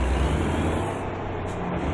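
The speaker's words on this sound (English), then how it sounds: "I just love the sound of these trucks" A Kenworth truck hauling wood chips in a driving video game gives off a steady, droning engine rumble with road noise. The sound stays even and moderately loud throughout.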